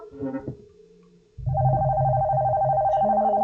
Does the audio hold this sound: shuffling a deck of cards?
no